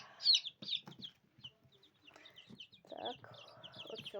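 Young chicks cheep in high, rapid bursts, and a hen clucks low nearby. The sound is close, busy and continuous, with no clear speech.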